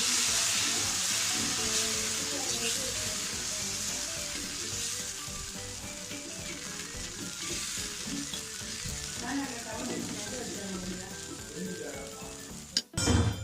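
Activated charcoal dosa batter poured onto a hot pan: a loud, continuous close sizzle with light scraping and stirring, ending in a brief clatter of utensils.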